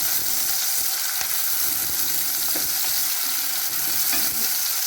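Pak choi and saltfish sautéing in a hot pan, giving a steady soft sizzle with occasional crackles and light stirring clicks throughout, no voices.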